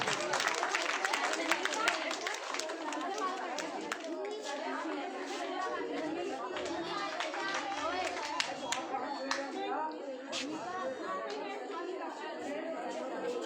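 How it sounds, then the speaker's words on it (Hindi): A crowd at a foundation day event in Shahbad Dairy claps scattered and unevenly in a noisy room, with many people chattering over and around the applause. "ताली तो कम से कम बजाते जाओ।"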